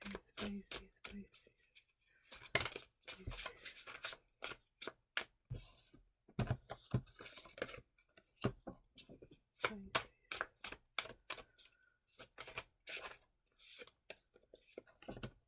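Tarot cards are shuffled by hand in a quiet room, giving irregular bursts of crisp riffling and slapping with short pauses between them, close and fairly soft.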